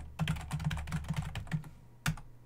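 Computer keyboard typing fills a short stretch as a quick run of close, crisp key clicks followed by a pause and one final louder keystroke, with no talk.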